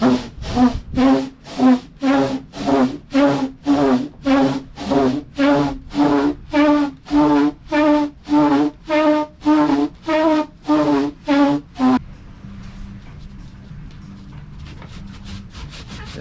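A hand saw cuts a round hole in wood for a boat rudder with about twenty loud, even rasping strokes. The strokes stop near the end and a quiet room hiss is left.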